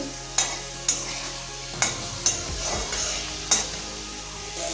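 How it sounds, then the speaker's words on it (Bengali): Eggplant fries with salt and turmeric in a pan under a steady sizzle, while a spatula scrapes and clinks against the metal in sharp, regularly spaced strokes. "ভালো করে ভেজে নেব বেগুনের সাথে"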